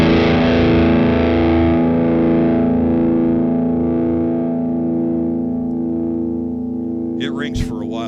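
A single note on a Dean V 79 electric guitar, played through distortion, rings out loud and steady with long sustain, slowly fading over about eight seconds before a brief handling noise near the end.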